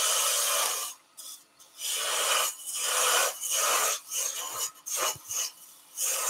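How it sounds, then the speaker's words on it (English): A spindle gouge cuts wood on a lathe while shaping a fantasy figure, heard as close rasping passes that start and stop in uneven bursts, each lasting about a second, with short quiet gaps between them. "Okay, so now let's go with a spindle gouge. I'm going to do a little OG on this side."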